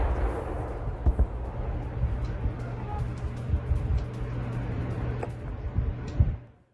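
A missile strike caught on CCTV comes through as a couple of sharp, muffled blasts, one early and one near the end, over a low, rumbling background that stays fairly faint.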